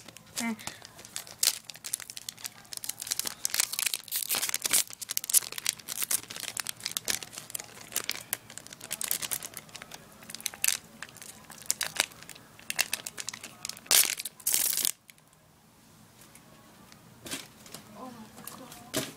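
Someone crumples an empty BT07 trading card pack wrapper by hand, making loud, close crinkling and crackling bursts that go on for about fifteen seconds before quieting.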